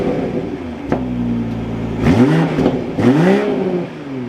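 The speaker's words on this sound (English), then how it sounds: "let's fire this back up and get some revs for the 340." A 2024 BMW M340i's engine catches with a sharp start-up, settles into a steady idle, then delivers two loud, rising revs that swell and fall back, heard up close with no talking.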